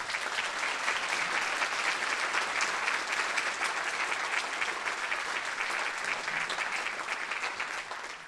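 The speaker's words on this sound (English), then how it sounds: "Let's give everyone a round of applause." A Christmas concert audience gives a sustained round of applause, a dense, even wash of many hands clapping that holds steady and tapers slightly at the end.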